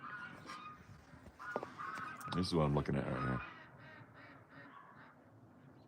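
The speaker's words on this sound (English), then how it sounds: "Those geese are going nuts." Geese and ducks on a New Mexico farm set up a noisy chorus of honks and quacks, at a middle distance, peaking in a loud cluster of calls midway, while someone talks over it.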